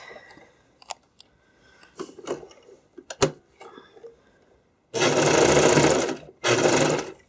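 Scattered clicks and fabric handling come first, then a sewing machine bursts into loud, continuous stitching of skate cover fabric in two runs with a short pause between them.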